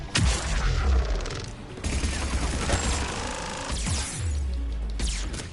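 Rapid bursts of gunfire and heavy booms fill a fast action sequence in the video game Mass Effect, loud and dense with repeated shots and impacts.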